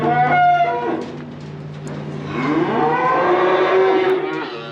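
A cow moos for her missing calf, giving long, loud, close bellows, one near the start and a longer, rising call in the second half, with no talk over them.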